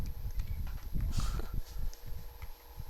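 Horse in the video game Dead Rails, its hooves clopping in an irregular series of soft thuds over a low rumbling background, moderately faint and close.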